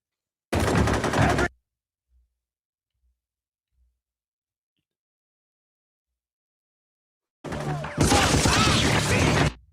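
Gunfire from a TV show scene: a dense burst of rapid shots for about a second, a long near-silent gap with a few faint ticks, then another sustained loud barrage, close and harsh.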